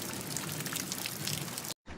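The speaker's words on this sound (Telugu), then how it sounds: "అనగనగా ఒక ఊర్లో బాగా వర్షం కురుస్తుంది." Heavy rain pours down over a village in an animated scene, a steady dense patter of drops filling the track before cutting out briefly near the end and returning.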